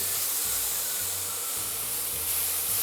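Pork browning in a pan for teriyaki, a steady close sizzle and hiss running evenly throughout, with faint low clatter or pulses underneath.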